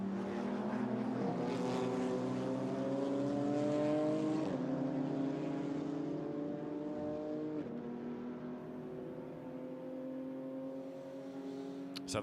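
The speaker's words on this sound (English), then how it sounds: "So the cars trickle their way back to the pit lane." GT4 race cars at a Jeddah circuit heading back to the pit lane, engines droning steadily with shifting pitch and rising revs, loud and continuous, with a little talk underneath.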